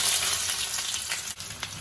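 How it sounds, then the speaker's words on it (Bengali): Onions frying in hot oil in a pan, the same oil just used to fry red lentil fritters, giving a steady, close, loud sizzle with light stirring and no voices. "ভালো করে ভেজে নেব পেঁয়াজ।"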